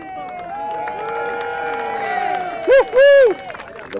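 Crowd cheering for pétanque players at a tournament final, a steady murmur of voices building through the clip, with a few loud shouts standing out near the end.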